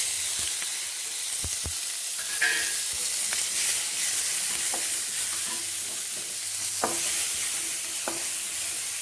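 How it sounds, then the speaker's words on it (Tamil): Chopped onions sizzle and fry in a pan for tomato chutney, with a steady hiss punctuated by occasional stirring scrapes and clicks, close and continuous without talk. "இப்போ நறுக்கி வச்ச வெங்காயத்தை போட்டுக்கலாம்."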